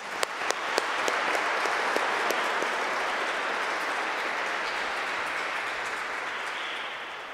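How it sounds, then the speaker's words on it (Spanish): A church congregation at Palm Sunday Mass applauds the visiting bishop: a few sharp, separate claps at first swell into broad, steady applause that fills the space and slowly tapers off. "Le damos un aplauso."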